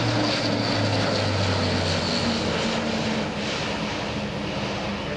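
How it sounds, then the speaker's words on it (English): An Airbus A400M Atlas four-engine turboprop transport makes a flypast at an air show, a loud sustained propeller drone that stays strong throughout. "These four-engine transport aircraft are brand new in the Spanish inventory, so seeing one for a few flypasts was a treat."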